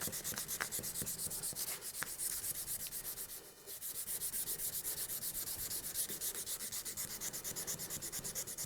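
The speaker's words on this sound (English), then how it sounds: "Scrub the front of that bolster." Abrasive pad scrubbing the bolster of a Damascus integral chef's knife in quick, even back-and-forth strokes, close and continuous, with a brief pause midway before the rhythmic rubbing resumes.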